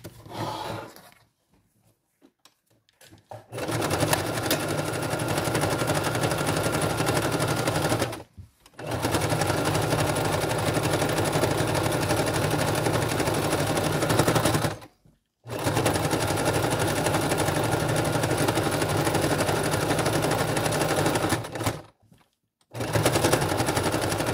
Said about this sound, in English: So I'm going to go ahead and sew around the border of this page.